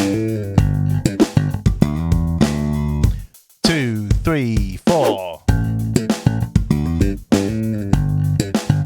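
Slap bass lick played as a complete phrase, percussive thumbed and popped notes in a brisk steady rhythm, close and loud, with a brief pause midway and a voice counting in beneath the playing.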